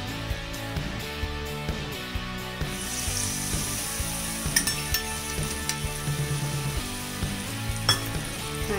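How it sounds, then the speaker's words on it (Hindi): Asafoetida and a prepared spice masala frying in a pan over medium flame, a bright steady sizzle that jumps louder partway through, with a low humming tone and a few metallic clicks of stirring underneath. "उसके साथ साथ जो हमने मसाले तैयार किए थे उस मसाले को डालेंगे"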